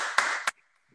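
A church congregation claps to acclaim the Lord: a short, dense burst of applause with a couple of sharper claps, then it cuts off into near silence.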